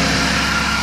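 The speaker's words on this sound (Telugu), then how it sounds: "ఇది ఆటోమేటిక్గా ఇంజన్ రైజ్ అవుతుంది" A Tata Ace HT Plus BS6 diesel engine idles at raised revs during DPF regeneration, a steady, close, continuous drone with no talk.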